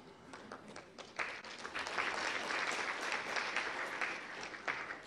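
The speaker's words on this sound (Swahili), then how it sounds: "naomba tena tuwapongeze kwa makofi mengi kabisa kabisa" An audience at a Tanzanian official ceremony with the President present breaks into sustained, moderately loud applause, the clapping swelling and staying busy throughout with a few distinct sharper claps.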